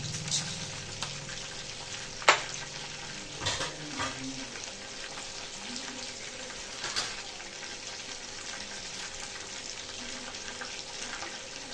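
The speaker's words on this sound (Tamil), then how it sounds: "கடுகு பொரியுது" Mustard seeds spluttering in hot oil make a continuous hiss with scattered sharp pops and crackles, one loud burst early on, heard close up without any voices.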